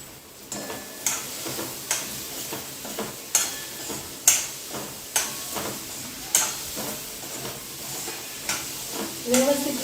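Cut ivy gourd (tondli) stir-frying in a pan, with a steady sizzle under repeated rhythmic scrapes and stirs of a spoon against the pan, roughly one every second.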